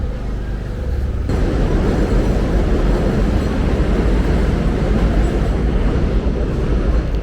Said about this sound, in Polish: To co słychać to metro linia,